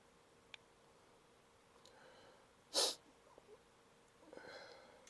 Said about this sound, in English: Sorry, but I just sneeze.